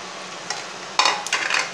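Cumin seeds drop into hot oil where mustard seeds are already frying for idli sambar tempering, with a faint crackle followed by a couple of louder sizzling bursts.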